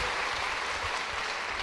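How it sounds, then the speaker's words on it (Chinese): A small seated audience at a daytime nutrition talk applauds, a dense, even wash of claps held at a constant moderate level, heard from a distance with no voices over it. "可不可以给我点掌声鼓励？"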